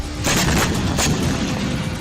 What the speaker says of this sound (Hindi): जॉर्डन में भी मिसाइल हमला हुआ। तेज धमाके से लोग सहम गए।